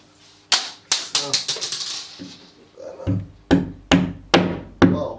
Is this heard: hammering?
yes